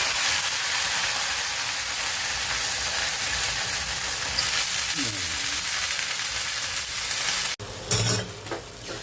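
Chopped onion and spring onion greens frying in a pan for a kandyachi paat dish, a steady broad sizzle running throughout with a brief stir or clatter near the end.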